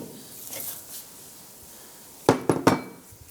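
Metal pry bar clanking against the lower control arm and ball joint under a 2001–2007 Ford Escape, with three sharp close knocks after a quiet stretch of faint shop noise.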